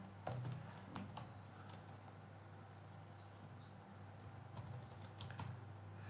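Quick bursts of keystrokes on a computer keyboard as a phone number is typed in, clicky taps clustered at the start and end with a pause between, over a steady low electrical hum.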